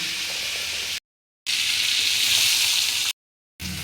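Shrimp frying in hot oil in a pan, with a loud, steady, close sizzle broken by two short silent gaps.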